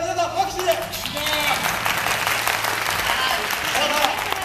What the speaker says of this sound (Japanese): じゃあ皆さん拍手で。